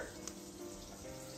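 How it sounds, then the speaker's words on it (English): Thinly sliced onions frying in sizzling butter in a pan while making caramelized onions for a cauliflower crust pizza; a steady, close crackling sizzle throughout, with no talk. "I'm gonna throw them over here in the sizzling butter"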